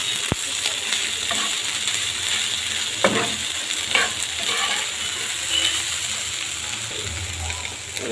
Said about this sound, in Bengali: এটা হচ্ছে কাকসি মাছের ফ্রাই।